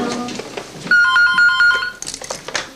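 A telephone rings in a home with a repeated electronic warble of trilled bursts, loud and close, while faint room noise sits around it before and after.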